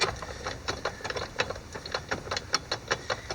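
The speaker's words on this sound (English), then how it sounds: "you can see how tipping this up and using it as a spin wrench makes things so much easier to use" Quick, regular metallic clicking from a ratchet spun like a spin wrench on an intake nut of a 2018 Ford F250 6.7, close and fairly faint, with no talk.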